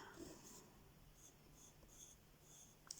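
Koh-I-Noor Magic coloured pencil scratching across paper in a colouring book, soft repeated hatching strokes heard close and faint, in short rhythmic bursts against quiet background hiss.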